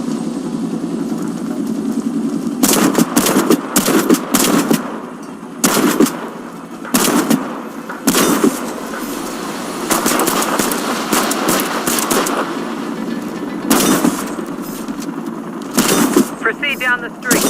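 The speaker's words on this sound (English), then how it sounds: "As a medic, you come armed with a shotgun." Gunfire from a medic's shotgun in the online shooter Warface cracks out in irregular loud blasts and short bursts during a street fight against targets, with a voice speaking between the shots.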